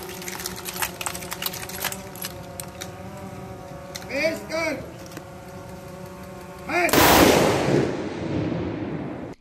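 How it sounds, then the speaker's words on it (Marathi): A police ceremonial gun salute is fired into the air at a martyrs' memorial in Nashik, heard as a loud burst of noise after a stretch of speech with faint clicks. "हवेत बंदुकीच्या फैरी झाडत शहीद पोलिसांना मानवंदना देण्यात आली"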